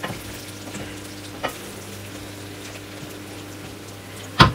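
Adobo pork cooking in a pan with sauce sticking to the bottom, a soft steady sizzle with an occasional scrape of stirring and a louder clatter near the end.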